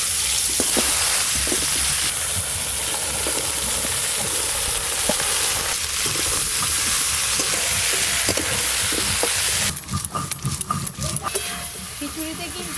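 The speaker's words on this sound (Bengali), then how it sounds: "এবার কুমড়ো, বরবটি আর কেন্দুলি ভেজে নেব।" Pumpkin, yardlong beans and kenduli frying in a pan for a vegetable khichuri, a continuous loud sizzle with occasional stirring scrapes, shifting to more clattering near the end.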